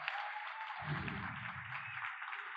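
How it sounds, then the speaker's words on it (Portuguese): Steady applause from a crowd at a Brazilian cultural policy event welcoming a senator, with a low rumble of voices or movement joining partway through. "Uma sala de palmas para nossa mestrona!"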